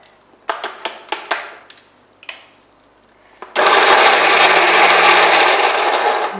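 A few sharp knocks and taps, then a blender kicks in with a loud, steady whirring roar that runs without a break to the end.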